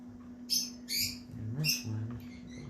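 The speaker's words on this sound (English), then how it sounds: "my birdies are happy" Pet birds give several bright, high chirps in short bursts, close and fairly loud, over a steady low electrical hum and faint room noise.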